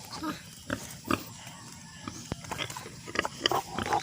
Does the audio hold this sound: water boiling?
no